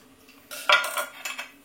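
A utensil scoops food from a dish with a short burst of metallic scraping and clinks against the dish, close and alone, over about a second.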